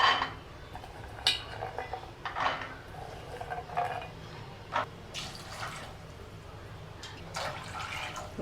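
Peanuts are washed in water with intermittent sloshes, splashes and light clinks against the bowl, in short irregular bursts over quiet running water.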